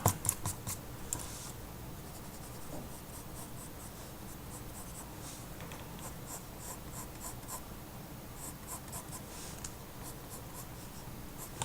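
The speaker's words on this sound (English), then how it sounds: "go ahead and draw that to help me visualize 3-dimensional view" Pencil drawing a manga-style face on paper, a steady close scratching and scraping of graphite that keeps going with short strokes throughout, alone without talk.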